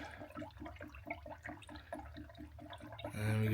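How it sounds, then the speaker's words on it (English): A whole jug of coolant is poured into a Jeep Cherokee 3.2 during an oil cooler job. It glugs in a steady rhythmic series, with the liquid gurgling in regular pulses, and ends in a brief louder splash. "That's the whole coolant jug going in."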